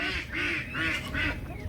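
Ducks that have wandered into a chicken area during evening chores quack loudly and close by, four evenly spaced nasal calls in a steady rhythm.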